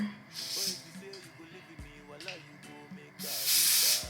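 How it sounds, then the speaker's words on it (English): Two bursts of hissing liquid spray onto the lace of a frontal wig, a short one early and a longer, louder one near the end, with soft background sounds between. "I just keep going and spraying the lace down all over"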